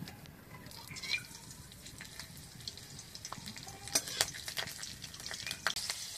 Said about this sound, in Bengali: প্রথমে দিয়ে দেব সর্ষের তেল। ফোড়নে দিয়ে দেব কাঁচা লঙ্কা,